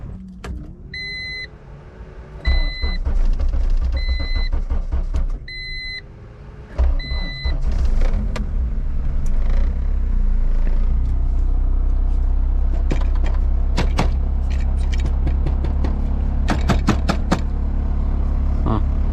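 Repeated electronic chimes and a whirring crank give way to a supercharged K20 Honda Civic wagon engine catching and running with a steady loud rumble, with clicks and jangling.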